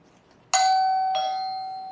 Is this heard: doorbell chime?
yes